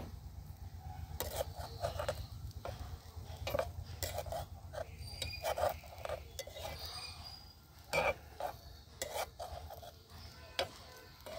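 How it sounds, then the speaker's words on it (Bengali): Sugar stirred into a cooking pot with a utensil, giving soft scraping and rubbing strokes with a few sharper clinks against the metal, faint and close, with a low background hum and no speech. "চিনিটা দেওয়া হয়ে গেছে, এবার নাড়িয়ে দেবো।"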